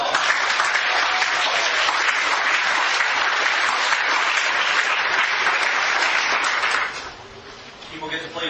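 An indoor audience at a bike advocacy talk gives a sustained round of applause, dense and loud clapping for about seven seconds before fading into a few scattered claps as a speaker resumes.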